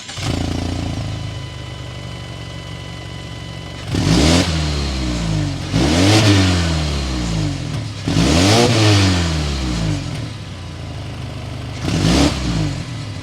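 A 2023 Mazda 3 hatchback engine, non-turbo, idles with a steady hum, punctuated by four sharp revs that climb and fall back, the exhaust note swelling with each one.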